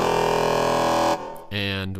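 Baby Croc synth note with its shift control mapped to the mod wheel, giving a glitchy, buzzy sustained tone that cuts off abruptly, then a brief stuttered retrigger with a shifted, brighter timbre; loud and alone.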